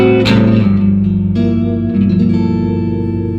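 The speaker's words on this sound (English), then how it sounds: "While we're at it, I'll add a little bit of reverb." A Stovall DR-22 Deluxe Reverb-style amp on its clean channel rings out guitar notes and chords with a touch of low reverb, loud and close, tones sustaining and overlapping with a soft ambient tail.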